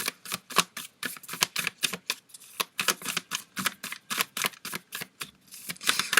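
Tarot cards are shuffled and drawn close up, a rapid run of crisp papery clicks and flicks in uneven bursts with no talking.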